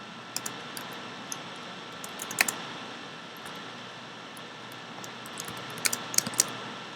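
Computer keyboard typing during a Java data structures coding lecture, sparse light clicks scattered over a steady fan-like hum, with no talking.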